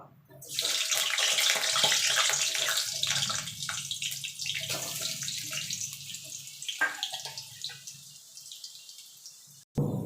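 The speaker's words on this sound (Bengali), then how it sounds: "বাইরে প্রচণ্ড বৃষ্টি হচ্ছে" Heavy rain falls outside during cooking, a steady rushing wash of water that swells and thins across the stretch, fairly near and with no talking over it.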